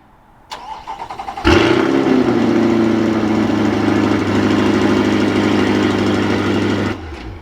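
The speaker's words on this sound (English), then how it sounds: "So if we lock the vehicle and double tap this, let's bring this V8 to life." A 2024 Chevrolet Corvette C8 2LT Z51 V8 starts remotely with a brief whirr, catches with a loud roar, then settles into a steady, deep idle for several seconds before cutting off abruptly.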